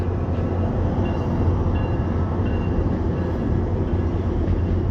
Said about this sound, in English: Train, guys.